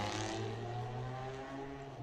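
Drag race cars launching drone steadily at a distance, a quiet sustained mechanical hum with no voices.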